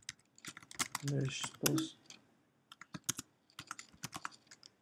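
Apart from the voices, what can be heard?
typing on a computer keyboard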